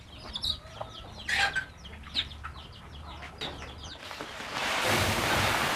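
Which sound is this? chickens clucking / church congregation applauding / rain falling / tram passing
chickens clucking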